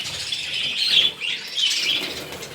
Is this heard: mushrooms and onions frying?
no